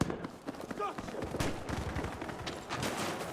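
Rapid FG-42 automatic rifle fire in a Battlefield V match, sharp close bursts layered with other distant gunfire and overlapping shooter chatter throughout.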